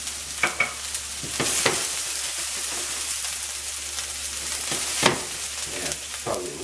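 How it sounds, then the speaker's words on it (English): Onions sautéing in olive oil in a pan, a gentle continuous sizzle close up, broken by a few sharp scraping stirs and clatters of a utensil against the pan. "And then I'm just going to saute these onions."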